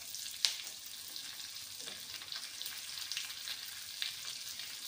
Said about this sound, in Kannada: ನೋಡಿ ಒಗ್ಗರಣೆ ಹಾಕ್ತಾಯಿದೆ, ಚೆನ್ನಾಗಿ ಹಾಕಬೇಕು ಹದವಾಗಿ